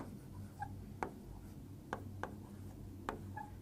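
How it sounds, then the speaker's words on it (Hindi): A marker scratches out numbers on a board in short, faint strokes with quiet taps between them, in a quiet room without speech. "तो यहां पर हम लिखेंगे 1 2 3 4 5 6"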